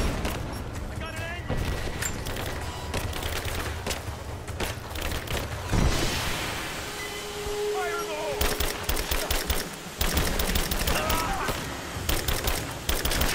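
Bursts of machine-gun fire and sharp single shots crackle in a Rise of the Tomb Raider firefight, with louder volleys toward the end while someone talks over the shooting.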